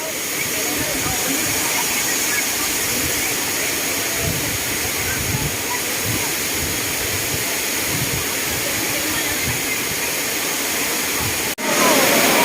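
Rushing water roars steadily as a broad, constant hiss from the nearby Sai Yok Noi Waterfall in Thailand, with a faint voice beneath it.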